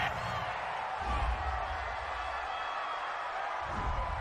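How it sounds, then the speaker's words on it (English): A stadium crowd in an EA Sports football video game, Cincinnati Bengals against Los Angeles Rams, reacting to a roughing-the-passer penalty with a steady, broad roar and occasional low swells. "Well, this crowd does not like that call"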